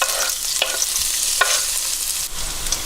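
Garlic fries in a generous amount of oil for noodles, a loud, continuous close-up sizzle with a few quick stirring scrapes, no voices.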